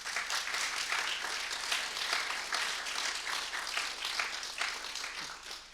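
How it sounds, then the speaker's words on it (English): Applause from a conference audience welcoming two speakers to a fireside chat, steady dense clapping at moderate distance lasting about six seconds. "please welcome both of them with a huge round of applause"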